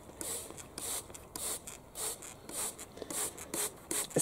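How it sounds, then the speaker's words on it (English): A hand pump sprayer misting bean plants against black fly, giving about eight short hissing bursts in a steady rhythm, close and fairly quiet, with no talking. "I'm just going to spray for now."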